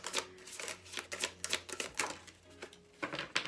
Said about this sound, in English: Oh, two shadow cards fell out.